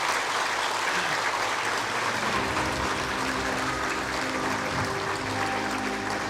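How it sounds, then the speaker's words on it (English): Audience applause at the SPARK Summit 2025 education event in Meghalaya, a dense, sustained wash of clapping from a large crowd, loud and steady for the whole stretch, with faint murmuring underneath. "I think we can clap, right?"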